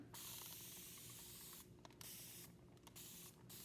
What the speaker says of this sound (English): So I'm going to spray just until it's wet.